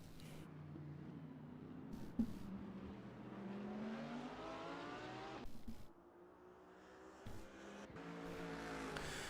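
Race cars in a racing video game lapping Spa-Francorchamps, engines droning and rising in pitch through gears with passing cars and a sharp transient, a steady mid-distance roar that dips briefly before building again.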